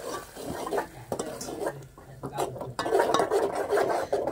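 A vegetable dish being stirred in a pan, spoon scraping and clinking against the metal with a faint sizzle underneath, steady and close.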